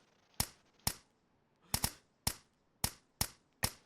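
An R99 gun firing in the survival game DayZ: seven sharp, clear single shots at uneven intervals, one a quick double, with quiet gaps between.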